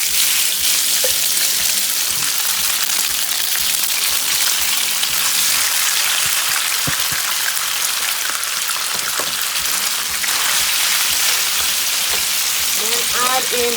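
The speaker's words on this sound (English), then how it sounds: "With my pot set, I add in some oil, just a little bit of oil. As it heats up, I add in my minced fish." Minced tilapia blended with garlic fries in a little hot oil in a pot, giving a loud, continuous sizzle that holds steady with faint scattered pops and clinks throughout.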